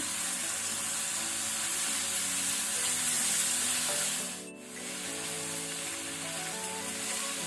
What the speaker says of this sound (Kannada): ಶುಂಠಿ ಬೆಳ್ಳುಳ್ಳಿ ಪೇಸ್ಟ್ ಹಾಗೂ ಗ್ರೀನ್ ಚಿಲ್ಲಿ ಪೇಸ್ಟ್ ಹಾಕೋಣ. ಇದನ್ನು ಸ್ವಲ್ಪ ಫ್ರೈ ಮಾಡ್ಕೊಳ್ಳುವ.